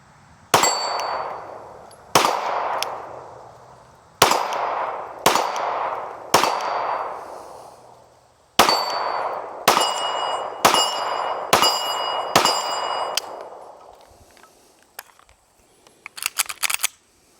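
A Kimber R7 Mako pistol firing at steel targets outdoors: about ten loud shots, each followed by a bright ringing clang, in a fairly steady rhythm, then a few fainter metallic clicks near the end.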